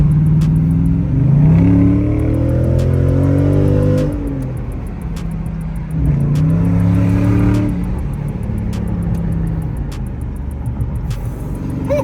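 A Dodge Hellcat accelerating hard on a motorway, its loud engine roaring and climbing through the revs in two long pulls, with a gear change and a brief dip in between.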